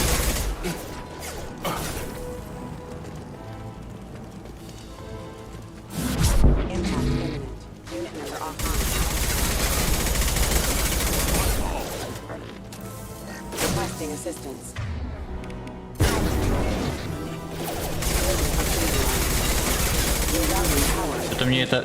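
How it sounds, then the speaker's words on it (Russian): Rifle fire in the video game Mass Effect: repeated rapid bursts of shots with mechanical clatter, separated by short quieter gaps, over a steady game soundscape. "Что-то мне эта винтовка вообще не нравится. Патрон дофига выстреливает, урон слабый."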